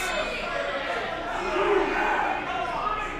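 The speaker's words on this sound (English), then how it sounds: "You could hear this Mayhem crowd." A wrestling crowd at a Mayhem show reacts to a near-fall after a DDT and cover, a broad roar of many voices that swells in the middle and stays loud to the end.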